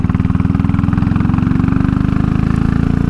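A Royal Enfield Classic 500 single-cylinder motorcycle engine runs close and loud with a steady, throbbing low pulse, holding an even idle-like beat throughout.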